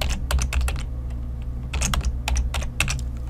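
Typing on a computer keyboard while entering Excel VBA code, with quick bursts of clicking keystrokes in uneven clusters, close and clear, over a steady low hum and no talking.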